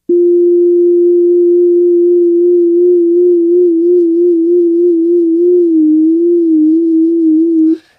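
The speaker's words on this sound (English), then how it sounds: "I could pull up, say, a sine wave, play a note, and just wiggle the frequency by hand" A steady pure electronic tone holds one pitch, wavering slightly up and down as it is bent by hand, then cuts off.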